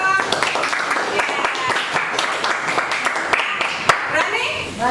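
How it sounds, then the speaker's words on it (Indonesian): Classroom children clap for their classmates in a dense, scattered patter that continues throughout, with children's voices talking over it. "Tepuk tangan buat teman-teman"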